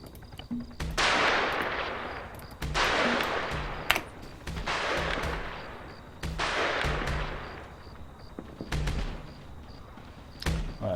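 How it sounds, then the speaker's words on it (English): Several artillery rounds are fired in the Arma 3 military game, each a heavy booming blast followed by a long rumbling tail, spaced a couple of seconds apart and heard from a moderate distance. "Right, that's artillery away."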